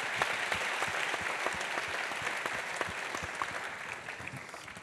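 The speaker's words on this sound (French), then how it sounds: "On peut l'accueillir aussi sous vos applaudissements." Conference audience applause welcoming a speaker to the stage: sustained, even clapping from a sizeable crowd, a bright steady patter that holds throughout and eases slightly at the end.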